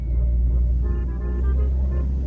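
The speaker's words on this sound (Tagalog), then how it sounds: "kaya traffic ngayon dito" Night highway traffic in Bahrain jammed after a football win, a steady low rumble of many idling and passing cars close by, with faint tonal engine hums throughout.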